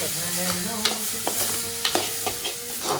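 Jaggery melts in a hot pan while a spoon stirs it in steady scraping strokes, with occasional sharp clinks against the metal over a continuous close sizzle, no talking.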